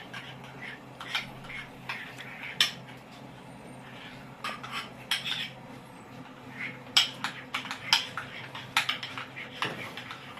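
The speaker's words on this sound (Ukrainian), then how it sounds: "І все це ми дуже добре повинні перемішати, щоб воно все було просто ладно" Utensil clinks and scrapes against a bowl while ingredients for lavash chips are stirred together, a faint, irregular run of small metallic ticks spread through the whole stretch, fairly quiet and close.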